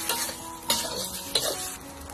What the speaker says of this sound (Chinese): 继续给它翻炒，最后淋入水淀粉，给它翻炒收干汤汁